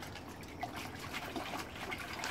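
Freshly harvested garden vegetables rinsed under running water, a faint steady trickle and splash with no voices.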